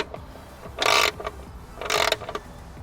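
A 10mm socket wrench ratchets bolts on the carbon fiber engine cover of a Corvette C8, heard as two short, close bursts of rapid clicking separated by quiet handling noise.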